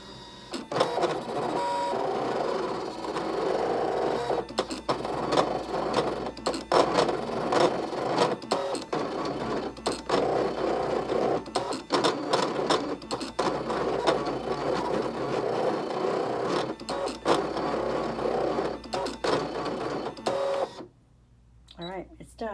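An automatic paper cutting machine works through 110 and 65 pound paper, giving a dense, rapid mechanical clatter of repeated cuts that runs steadily for about twenty seconds before stopping abruptly, with a person talking over it.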